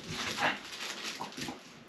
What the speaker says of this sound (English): Excuse the bulldog.